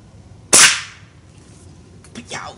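A Daisy 1101 break barrel air rifle fires once at a spoon, a sharp loud crack with a quick decay, followed by a fainter metallic ping and rattle from the hit.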